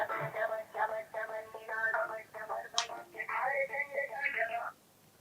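Telephone call ringing during a TV program phone-in: a steady electronic ring tone pulses in repeated bursts for several seconds, then stops.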